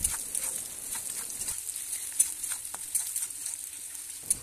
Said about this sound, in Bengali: যতক্ষণ না পেঁয়াজগুলো আমার লাল লাল হয়ে যায় ততক্ষণ পর্যন্ত আমি এখানে ভাজতে থাকবো।